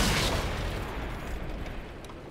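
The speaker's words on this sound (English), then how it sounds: "I managed to unload my clip on that IS-3 and Borsig" A single heavy tank cannon blast in World of Tanks, with the Emil 1 firing into an IS-3 and a Borsig, a loud boom that rolls off into a long fading rumble.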